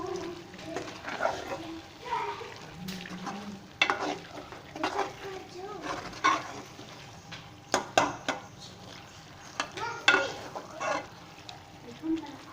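A spoon scrapes and stirs gram flour halwa with almonds, pistachios and other nuts in a pan. The scraping is soft and irregular, with frequent light clinks against the pan and faint background noise.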